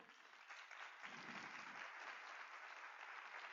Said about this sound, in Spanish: un fuerte aplauso a Nicola